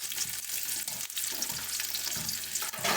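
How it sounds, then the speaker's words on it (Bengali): Onion fries in a pan for a quick cabbage stir-fry, a loud, continuous close-up sizzle with faint scraping stirs and no talking. "পেঁয়াজটাকে ভালো মতন করে ভেজে নিচ্ছি"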